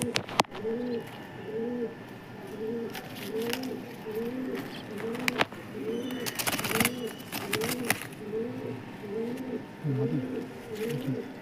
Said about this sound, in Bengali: ছেলে পায়রা, নর পায়রা। একটা নর পায়রা আছে সাদা, এই চোখ।